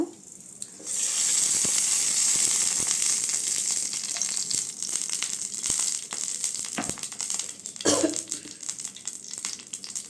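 Oil sizzles and crackles steadily in a hot pan while the base for a cowpea curry is cooked, with a few clinks and small knocks over the hiss.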